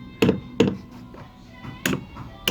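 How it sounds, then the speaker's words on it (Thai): A few hollow hammer taps driving caulking into wooden boat hull seams, irregularly spaced, close and fairly sharp, with quiet pauses between strikes. "ย้ำไปตอกไป"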